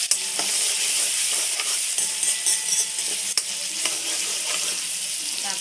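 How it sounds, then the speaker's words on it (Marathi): Onions fry in a pan being browned for an egg dish, with a loud, steady sizzle close by and occasional light clicks and stirring sounds over it. "हे बघा कांदा मस्त लाल करून घ्यायचा आहे."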